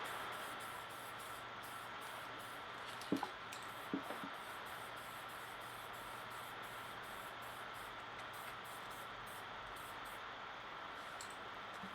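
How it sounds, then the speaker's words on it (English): Spray paint hisses steadily from a can onto a wooden wine-box bar table, a soft, continuous hiss with a couple of faint clicks partway through. "Maybe I'll give it a couple more sprays"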